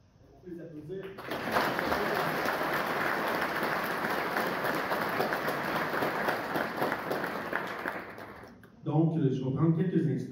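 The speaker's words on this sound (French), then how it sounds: "On peut les applaudir." An audience applauds at a school award ceremony for secondary students, a dense, steady wash of clapping from many hands lasting about seven seconds before fading, with a speaking voice just before and after.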